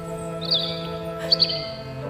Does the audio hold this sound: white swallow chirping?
yes